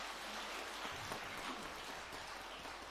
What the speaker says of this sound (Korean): 그분들한테 박수 한번 보내주세요.